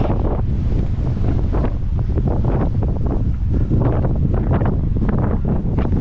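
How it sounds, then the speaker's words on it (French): Strong wind buffeting the microphone outdoors on a walk, a loud continuous roaring rumble with gusty swells that never lets up. "Là, il y a vraiment du vent"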